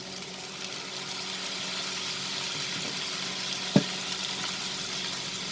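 Okra and prawns frying in soya sauce, a constant close sizzle with one sharp knock of the spoon against the pan while stirring, no voices.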